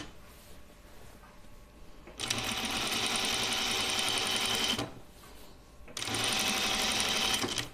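Sewing machine stitching a Kalle shirtdress, running in two sustained bursts of steady rapid whirring separated by a short pause, loud and close with no talk.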